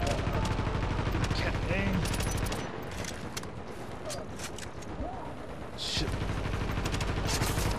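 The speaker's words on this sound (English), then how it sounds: "Damn gun turret." A gun turret in the video game The Division fires dense, continuous bursts that pause briefly mid-clip and then resume, with a player speaking over the shooting.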